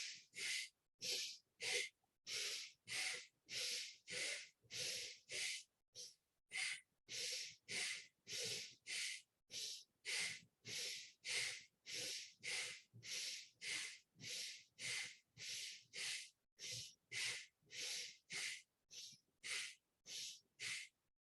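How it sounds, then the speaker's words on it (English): Bhastrika breathing repeats in a fast, even rhythm, each forceful full inhale and exhale a sharp hissing rush of air, dozens of cycles in a row. "we start with Bhastrika. So we inhale fully and exhale completely"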